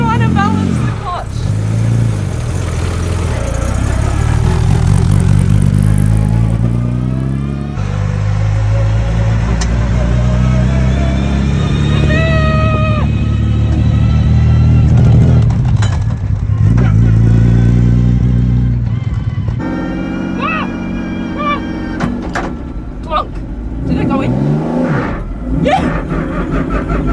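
A car engine revs and idles up and down continuously while the driver balances the clutch, giving a loud, close, rough drone with shifting pitch. Talk is heard over the engine now and then.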